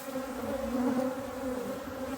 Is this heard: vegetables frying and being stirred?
no